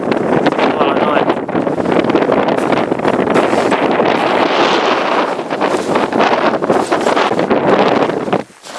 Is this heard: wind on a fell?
yes